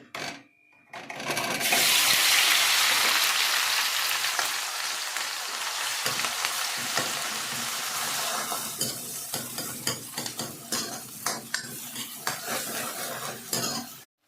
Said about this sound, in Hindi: अब डालती हूँ ये ग्रेटर किया हुआ लहसुन, प्याज,